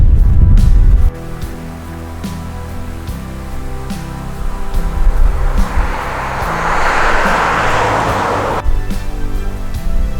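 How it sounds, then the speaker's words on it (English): Traffic on a busy country road beside an old church cemetery: a steady low roadway rumble, then a vehicle swells closer and rushes past before cutting off, with no talking. "So we are out in the country along a busy country road. So if you hear traffic,"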